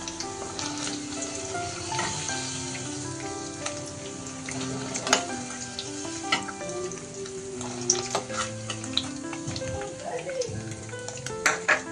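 Paneer cubes frying in hot oil for hotel-style aloo dum curry: a steady, dense sizzle runs throughout, with frequent light clinks and scrapes of a utensil against the pan.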